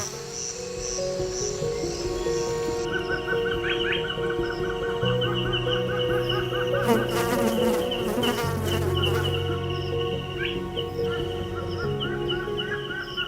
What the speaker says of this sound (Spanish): La abeja obrera se concentra en recolectar sin saber del depredador cercano.